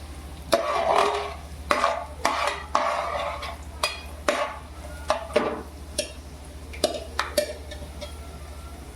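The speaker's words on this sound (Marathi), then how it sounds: "ड्रायफ्रूट भाजून झालेले आहे" Dry fruits, raisins and pumpkin seeds stirred in a pan over a low gas flame, heard as close, irregular scraping and clinking strokes with sharp utensil taps over a steady low hum.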